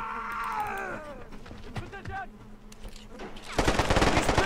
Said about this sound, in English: that's an enemy machine gun, guys